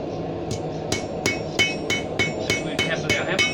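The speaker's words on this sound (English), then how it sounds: "We tap with our hammer to take it from the octagon round." A blacksmith's hammer taps hot steel on an anvil, rounding an octagonal bar, in a steady series of about eight sharp metallic strikes roughly every half second over a low background hum.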